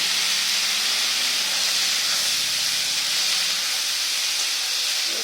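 Steamed vegetables, including raw green banana, potato and papaya, hiss loudly and continuously in a hot kadai, a dense, steady, close sizzle without pause and with no voices.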